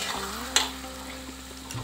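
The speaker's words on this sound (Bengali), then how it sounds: "এবারে আমি মাংসটা দিয়ে দিয়েছি, এটা একটু কষতে থাক" Meat frying in a pan, browning over the heat: a steady low sizzle with a steady hum beneath, brief clatters of stirring near the middle and end, no talking.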